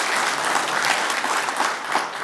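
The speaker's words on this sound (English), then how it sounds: "So another big round of applause for our sponsors today." Breakfast audience at a police foundation event applauds its sponsors, a dense, steady roomful of clapping from start to finish.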